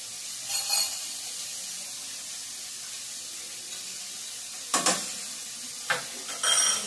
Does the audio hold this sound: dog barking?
no